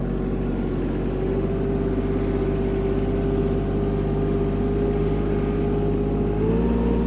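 Kubota KL-25 Japanese mini tractor engine running steadily through a fast turn, a constant close drone with a strong low hum and a slight rise in pitch near the end.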